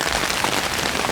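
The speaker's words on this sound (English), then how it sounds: "You can hear the rain actually falling on the top." Steady heavy rain drumming on the roof of a camping tent, a dense continuous patter heard from inside, close and even, with no voices.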